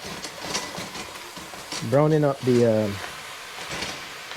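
Beef sizzles and fries steadily in a pot on a home stove for black bean stew, with a faint crackling hiss throughout while a person talks briefly in the middle.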